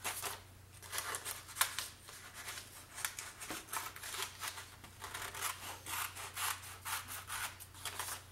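Scissors snip steadily through scrapbooking paper in a quiet room, a close series of short rubbing cuts repeating at an even pace with no voice over them.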